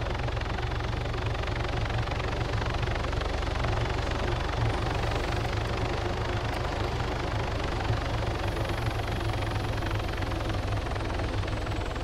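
A police helicopter flies overhead, its rotor and engine a loud, steady, unbroken roar with no other sounds.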